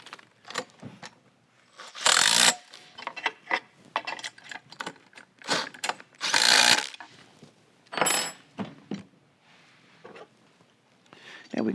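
Plastic parts of a XERO Pure Plus reverse osmosis water filter housing being tightened back down, with irregular bursts of scraping, clicking and creaking, some loud, separated by quiet gaps.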